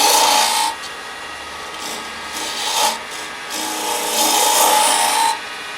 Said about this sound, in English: use the detail gouge again, and start the hollowing process of the lid